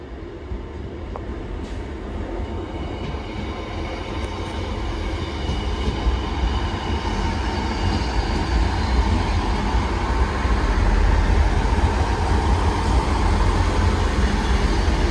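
A diesel double Class 158 train rumbles into a station, its low engine drone and rolling wheel noise steadily growing louder and closer over fifteen seconds, with no voices.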